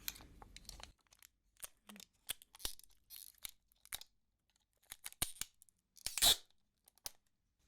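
Adhesive tape torn off a roll for gift wrapping, several sharp crackling rips in short bursts between quiet gaps, close and crisp, with faint whispered talk now and then.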